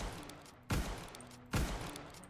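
Two sharp, loud Spencer Carbine rifle shots in the Roblox western game The Wild West, spaced under a second apart, each with a short decaying tail over steady background noise.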